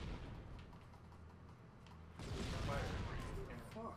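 A heavy tank cannon shot in Halo: Combat Evolved multiplayer, a broad booming blast roughly halfway through that swells over the background din and rumbles on, with faint game noise and clutter before it.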